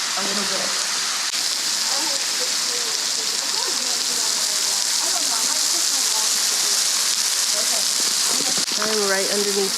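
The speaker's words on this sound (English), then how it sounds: "I'm right underneath the waterfall, and it's absolutely beautiful." Hemmed-In Falls, a high waterfall in Arkansas, heard from right underneath as a constant dense roaring hiss, loud and steady, with a person talking over it.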